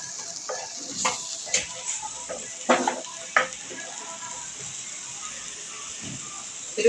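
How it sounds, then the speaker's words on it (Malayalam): Okra sizzles steadily in a hot pan as it is stirred, with a constant frying hiss and scattered scraping and clattering stirs throughout, while a faint voice speaks in the background. "നമുക്ക് വെണ്ടക്ക ഇട്ട് കൊടുക്കാം."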